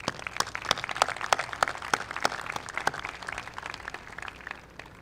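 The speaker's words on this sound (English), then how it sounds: "Let's give them a round of applause." A graduation audience at the 2018 STAC commencement clapping, a steady burst of applause from a crowd filling the hall, fading slightly toward the end.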